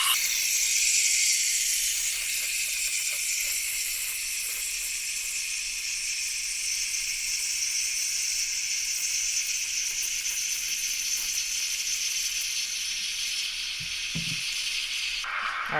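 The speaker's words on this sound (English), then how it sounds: "So go ahead and let's steam this sucker." An espresso machine steam wand steams milk for a cappuccino-style drink, giving a steady, loud airy hiss that holds for about fifteen seconds with a slight gurgle near the end and no voices.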